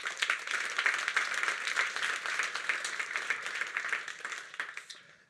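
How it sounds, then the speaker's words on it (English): Audience applause for funders and supporters at a tech demo day event at Google HQ, a dense, even wash of many hands clapping at moderate distance that fades out toward the end. "Let's give them a round of applause."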